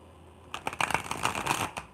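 Tattoo Tarot cards being shuffled by hand: a burst of quick, crisp riffling flutters close up, starting after a brief quiet moment and running steadily to the end.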